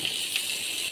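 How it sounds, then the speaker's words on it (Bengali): Chopped onion and cut potatoes frying in a pan give a steady, soft sizzling hiss, close by, ending in a short sharper crackle. "এবার আলুগুলো, কাটা আলুগুলো দিয়ে দেবো।"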